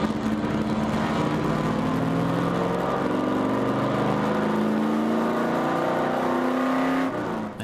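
Race cars lap the Daytona track, a loud continuous engine drone holding steady with rising pitch sweeps as cars accelerate and pass, fading slightly at the very end.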